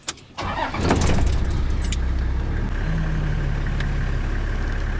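A car comes up from behind on a road in Zimbabwe, its engine and tyre noise swelling loud and close, then holding at a steady rumbling drone with a faint higher whine, no talking.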